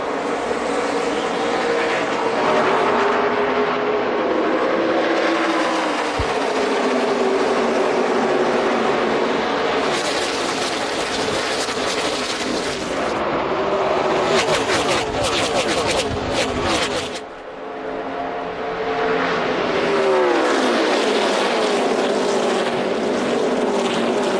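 NASCAR Nationwide Series race cars roar through a restart at Darlington Raceway, a dense continuous engine drone with surging passes and shifting pitch, heard under steady commentary voices.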